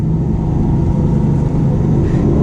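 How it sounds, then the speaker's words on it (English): A Lamborghini Aventador's engine of almost 700 horsepower drones steadily and loudly close by as it downshifts to second gear and rev-matches, a continuous low mechanical roar with no talking. "We're gonna downshift it to second,"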